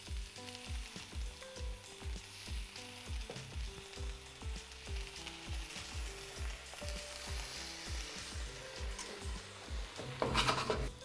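Vegetables with chopped tomatoes frying in a pan, a steady close sizzle with soft rhythmic thumps running through it and a brief louder burst near the end.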